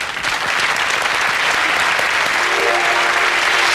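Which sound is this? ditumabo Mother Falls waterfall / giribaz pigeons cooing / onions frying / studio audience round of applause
studio audience round of applause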